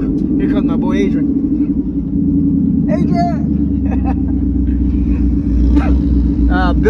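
Ford Mustang GT (S550, Gen 2 Coyote V8 with an S475 T6 turbo and 6R80 gearbox) rumbles loudly and steadily close by, while people talk over it and a dog barks a few times.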